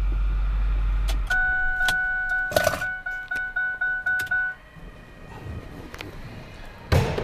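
A 2009 Ford F-450 Harley-Davidson pickup's engine rumbles low, then cuts off, followed by a run of rhythmic chimes or beeps and a few close clicks and thumps, ending with a door slam.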